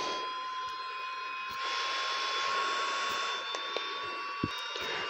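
A China-made IPL hair removal device runs with a steady, loud whirring drone much like a hair dryer, held close with a few faint clicks over the top.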